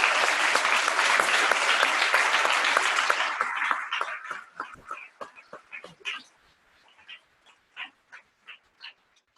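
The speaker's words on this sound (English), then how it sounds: "Please join me in one more round of applause for all of the youth who participated in the 2017 State 4-H Awards Program." Audience at a state 4-H awards show breaking into dense applause that tapers off after a few seconds into scattered individual claps, ending in a few last isolated claps.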